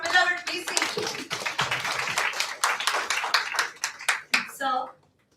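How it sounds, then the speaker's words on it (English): Audience applause at a law college national seminar: a short burst of distinct, fairly close handclaps that thins out and stops near the end, with some voices mixed in. "may I request to have a huge round of applause for our beloved BC"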